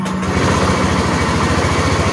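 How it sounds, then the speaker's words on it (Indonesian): A Honda Scoopy scooter's small engine is running after an electric start, a loud, steady, fast putter close by that holds an even idle throughout. "kita langsung starter hidupin"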